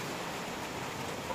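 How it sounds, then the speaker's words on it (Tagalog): Heavy rain pours in a dense, steady hiss, continuous and even throughout a brief moment with no voices. "Yan, malakas ang ulan."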